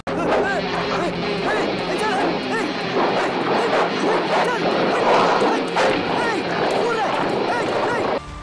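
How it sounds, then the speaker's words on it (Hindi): An aggressive zombie dog in a film barks repeatedly in sharp bursts with whimpers, set against a busy background of chatter and crowd noise throughout. "वही कुत्ता उसे रास्ते में मिलता है जो अब जॉम्बी डॉग बन चुका है और काफी एग्रेसिव है"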